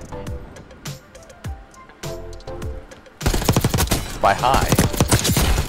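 Gunfire in the video game Black Ops 6, first a few scattered shots, then a loud, dense burst of rapid automatic fire that runs to the end, with brief talk mixed in.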